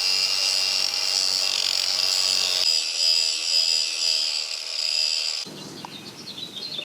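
Bench grinder sharpening a steel lawn mower blade, a steady high abrasive whine with rough grinding texture that shifts abruptly twice as the blade is repositioned, fairly close and continuous with no voices.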